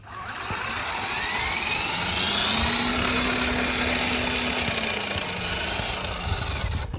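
A 1/5 scale RC crawler with a 997 brushed motor on 36 volts runs at full throttle in low gear, giving a steady loud electric motor whine and gear drone that swells slightly and holds for the whole stretch, with no talking.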